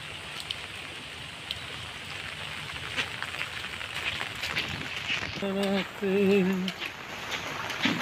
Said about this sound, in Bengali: দেখেন খুব বৃষ্টি, রাস্তার অবস্থা দেখেন।